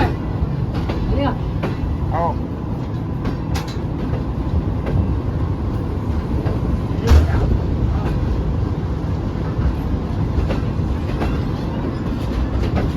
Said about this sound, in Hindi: रवाना भी हो रही है गाड़ी यहाँ से